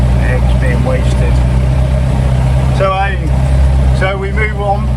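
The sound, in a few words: tractor engine while driving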